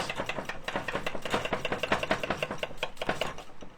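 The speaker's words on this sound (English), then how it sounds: "Okay, let's just finish chopping these." Knife chopping vegetables on a board for a pheasant casserole sauce, a fast even run of crisp, close cuts with no talking.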